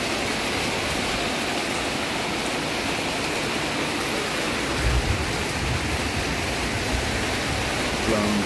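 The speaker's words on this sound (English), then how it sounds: "torrential rain" Torrential rain pours down in wet, windy weather in Udon Thani, Thailand, with water running off a roof: a loud, dense, unbroken hiss of downpour with a few low thuds and gusts.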